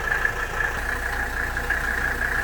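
A 1985 Mercedes 300SD diesel idles steadily while warming up, a close, continuous engine drone with a faint ping in the engine and no talking.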